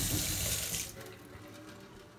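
Water runs steadily from a kitchen or bathroom faucet in a move-in apartment, a loud broadband rush at the start that eases to a quieter continuous flow, with no voices.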